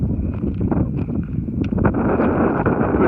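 Steady wind buffets the microphone at a hilltop lookout at Willow Springs in South Australia, a continuous loud rumbling roar with gusty swells throughout and no talking.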